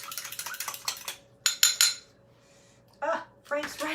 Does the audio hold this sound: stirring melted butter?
yes